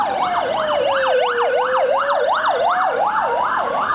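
An ambulance siren wails continuously in a fast rising-and-falling sweep, loud and steady throughout with a faint road rumble underneath and no voices.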